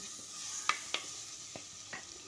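Small chopped tomatoes sauté in a pan for pepper rasam, a soft steady sizzle broken by a few light clicks of a spoon stirring against the pan, close and quiet with no voices.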